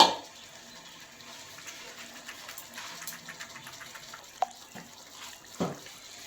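Water is poured and swirled over spice paste of ginger and cumin for a rohu fish bhapa, a soft steady splashing trickle with a few clinks of utensils against the bowl, and no voice.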